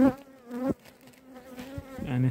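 A loud, close buzzing of many honey bees at a hive, droning steadily with rising and falling pitch, heard alone without talk.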